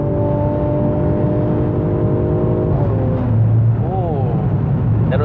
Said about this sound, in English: As you can hear, this car sounds very nice.